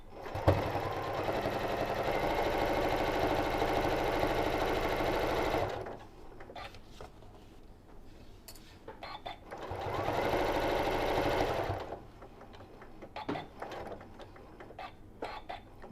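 Sewing machine stitching the sides of a Japanese rice bag runs in two sustained whirring bursts, close and loud, with quiet mechanical clicks and handling between them.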